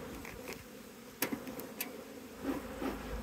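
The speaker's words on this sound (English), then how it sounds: "bees." Bees hum steadily around an open hive during a spring inspection, a low continuous drone with a few individual bees buzzing close past, plus light clicks and handling noises, and no one speaking.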